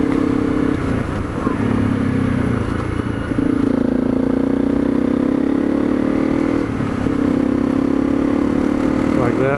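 A Honda CRF250L dual-sport motorcycle engine revs up and settles back repeatedly, loud and close, with rising and falling pitch sweeps across several throttle blips.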